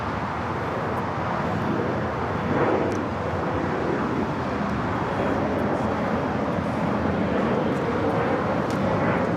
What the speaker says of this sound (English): Heading to Doha on this A350-1000. Should be a south side takeoff.